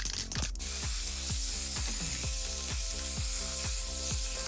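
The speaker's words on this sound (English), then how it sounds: "Hairspray me." Hairspray hisses from an aerosol can in one long, continuous close burst after a brief rustle, loud and steady to the end.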